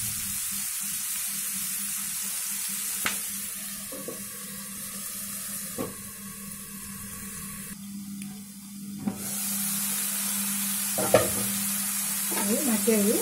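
Mushrooms for a kadai curry sizzle and fry in a pan with a steady hiss, broken by several sharp clinks and scrapes of stirring, loud and close with no talking.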